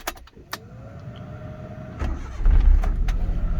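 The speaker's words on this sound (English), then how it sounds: "this one will start up just by turning the key" A manual transmission car's engine is started with a turn of the key: a whining crank rises, then the engine catches and settles into a steady, louder rumble, with no talk.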